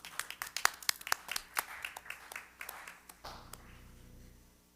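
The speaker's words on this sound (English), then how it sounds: "So clap for our volunteers." A small audience at a school district governing board meeting claps for volunteers, a few seconds of crisp, irregular hand claps heard close, fading out as the room settles.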